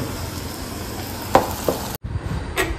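Kofta and malpua fry in a pan with a continuous close sizzle, a few sharp clinks of a utensil against the pan and a brief drop in sound partway through.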